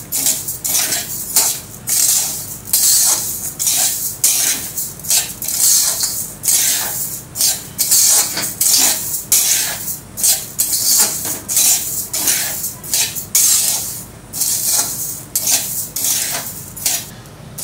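Rice dry-roasting in a pan for chakali flour, loud repeated rhythmic scraping and rattling of a spoon against metal as the grains are stirred, continuous and close.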